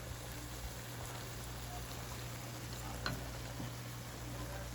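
Soy sauce sizzles in a pan of turkey bacon pasta with a steady, soft frying hiss. Faint crackles and pops run through it and a small clatter comes at the very end.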